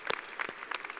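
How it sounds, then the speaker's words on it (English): Audience applause at a university commencement ceremony honoring a degree recipient, quiet and brief, with a few distinct claps in short bursts. "another round of applause in recognition of Mr. Dennis"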